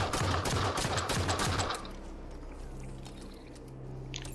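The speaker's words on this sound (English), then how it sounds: "I'm going to take it down by just keep firing at it with the pistol" Rapid pistol fire in Halo 5 pounds away at an enemy's shield, a quick run of sharp repeated shots for under two seconds before cutting off into a low steady hum.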